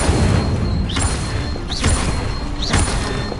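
Three casts of the Incendio fire spell in Hogwarts Legacy come about a second apart, each a rising whooshing flare with a soft burst, over a steady low background.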